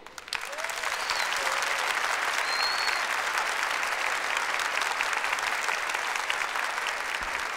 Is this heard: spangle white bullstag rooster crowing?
no